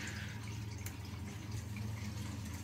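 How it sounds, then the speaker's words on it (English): Water trickles steadily into a Baxi 800 Combi 2 boiler system while it is topped up, a soft continuous filling hiss over a low pump hum, faint and close. "We'll put a little bit more water in"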